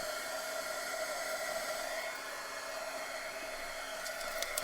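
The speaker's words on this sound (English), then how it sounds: "Let's grab our heat tool." A crafting heat tool blows hot air over a glitter-covered craft journal page, a steady close whooshing roar that keeps up without a break and has no voices over it.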